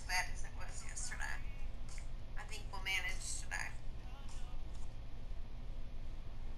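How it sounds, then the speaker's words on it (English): A phone speaks on its own in a faint, tinny, murmuring voice with short whisper-like bursts over a steady low background hum. "My phone's speaking by itself."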